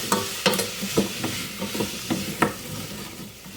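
A spoon stirs paprika, crushed bay leaves and salt in a hot pan, with steady sizzling and repeated scraping knocks against the pan, close and clear, no voices.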